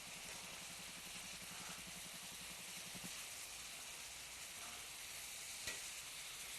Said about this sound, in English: And you can hear it popping and sizzling.